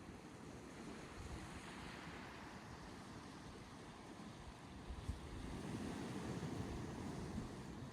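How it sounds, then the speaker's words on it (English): Ocean waves break against the rocks along the Maine coast in a steady, distant roaring wash that swells near the end, with wind blowing over the microphone and no voices. "We have rocks and the waves just like smashing against them over there."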